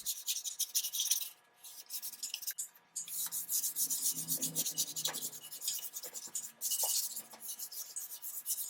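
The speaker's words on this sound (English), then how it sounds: "a light sanding with 400 grit sandpaper again of that final primer coat" A final primer coat on a Brewster lamp is lightly sanded by hand with 400 grit sandpaper. The rubbing strokes are close, quick and rhythmic, with brief pauses between passes.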